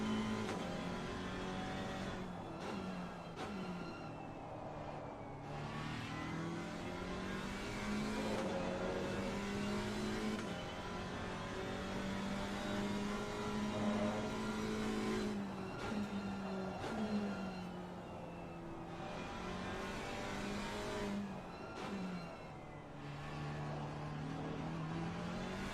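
A GT4 race car on a hot lap at Paul Ricard in Assetto Corsa Competizione, its engine droning steadily with rising and falling revs and gear changes across the run, with no voices.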